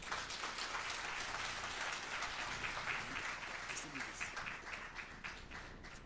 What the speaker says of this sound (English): Yes, another round of applause, please.